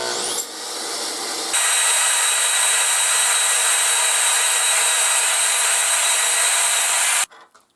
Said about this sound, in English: we'll bring it over to the bandsaw and cut it